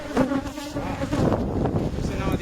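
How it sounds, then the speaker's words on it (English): Agitated African honeybees swarming around a top bar hive in Uganda during a honey harvest, a dense close buzzing drone that rises and falls as bees fly near, with faint background noise and no talk. "you can see the bees now are quite agitated"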